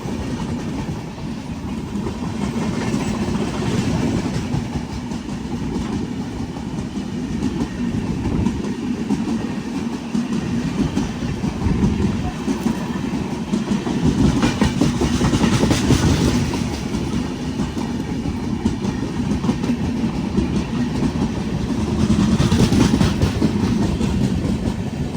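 The Thiruvananthapuram Central–Mumbai Lokmanya Tilak Netravati Express runs along the rails in Goa, with a continuous loud rumble and repeated clickety-clack of wheels over joints heard from inside the carriage, with no talking.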